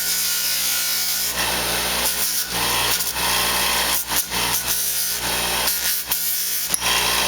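A wooden finger gaunt is pressed against a power sander, a steady close grinding hiss and rasp that runs the whole time, swelling and dipping slightly as the piece is worked, with no talking.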